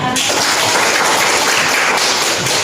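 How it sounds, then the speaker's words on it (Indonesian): A secondary school class of grade 12 students applauds together, a dense, steady burst of clapping filling the room for under three seconds, loud and close with no talk over it. "Oke, tepuk tangan untuk semuanya."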